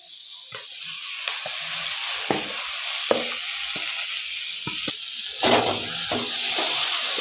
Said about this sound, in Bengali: সব মশলা সবজি কষানো হয়ে গেছে এবার এর মধ্যে দিয়ে দেব আগে থেকে সিদ্ধ করে রাখা ডাল